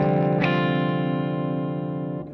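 A distorted electric guitar chord is struck and rings out through a Jackson Ampworks Atlantic 4.0 amplifier with the bright switch off, sustaining loudly with a darker, warmer tone before slowly fading.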